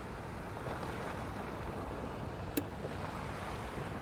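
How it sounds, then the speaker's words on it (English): Ocean water at a beach at sunrise rushes as a steady, faint wash of surf and wind noise, recorded through a damaged phone microphone, with no talking. "hopefully you can still hear the water"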